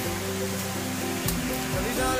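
A steady rushing roar of a waterfall by a dam in Port Blair, Andaman Islands, fills the background while tonal hums shift over it, continuous and even.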